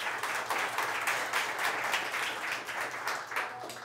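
Audience applauding after a round of an improv comedy show's job-interview game, a dense steady wash of many hands clapping at moderate loudness throughout, with no voices.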